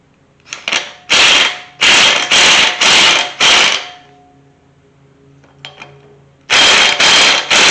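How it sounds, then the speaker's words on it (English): A wrench on truck bolts of a 1991 Chevy C1500 pickup gives several rapid bursts of loud ratcheting clicks, then a pause with faint clinks before another burst. "I got a torque wrench over here"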